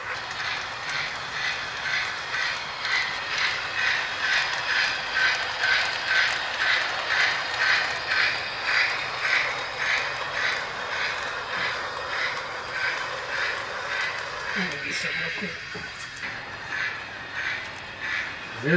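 A Polar Express Elf Work Train toy steam train chuffs in a steady, rapid rhythm, the puffs running continuously and evenly, with a brief clatter near the end.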